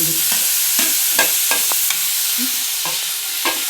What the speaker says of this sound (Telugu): అల్లం వెల్లుల్లి పేస్ట్ వేయాలండి. వేసి బాగా వేయించుకోవాలి, పచ్చివాసన పోయేదాకా.